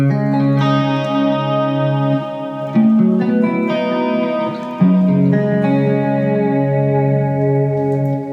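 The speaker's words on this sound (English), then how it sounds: "we're just going for a digital delay sound" Sustained electric guitar chords ring out through a modulated digital delay, with shimmering, wavering repeats trailing behind each change, the echoes layered and loud with no talking.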